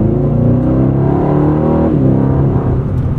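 A 2024 Aston Martin DB12 engine revs steadily with a deep, rich harmonic drone, its pitch dipping and rising again partway through, loud and close with no talking.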